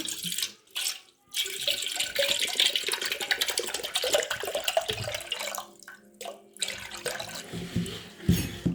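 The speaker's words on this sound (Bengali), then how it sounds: "এখন পানি ঢালবো।" Water pours steadily from a heavy jug into a cooking pot, a continuous splashing stream with brief pauses, close and fairly loud.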